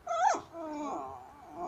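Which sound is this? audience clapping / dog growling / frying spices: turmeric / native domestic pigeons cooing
dog growling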